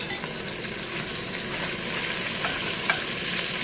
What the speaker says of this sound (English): We just want to brown this meat.